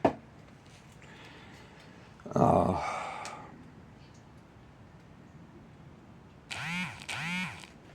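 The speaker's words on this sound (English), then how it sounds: "Sorry, that was my ring." Phone ringtone going off after a muted phone woke up, two short bursts of a bright warbling melodic tone near the end, fairly close and clear, with a brief rustling noise earlier.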